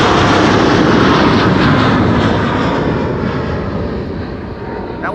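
A jet airliner roars loudly and continuously at Amsterdam Schiphol Airport, a broad rushing engine noise that fades slightly as it goes on.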